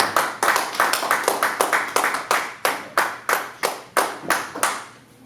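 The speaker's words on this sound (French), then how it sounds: "Nous acclamons encore très fort le Seigneur." A church congregation claps in unison, loud close rhythmic hand claps roughly twice a second for several seconds.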